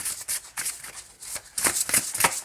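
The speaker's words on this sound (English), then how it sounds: "Rifle shuffles really well too." Rifle shuffling of a tarot deck: a series of crisp, rapid riffling bursts of card edges, close and fairly loud, with short pauses between shuffles and no talk.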